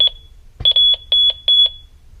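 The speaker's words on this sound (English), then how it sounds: "It'll give us the 3 beeps and then go to field 49." A high electronic tone followed by a quick series of short, sharp beeps from a Honeywell Lynx Plus L3000 alarm keypad during programming, close and clear in a quiet room.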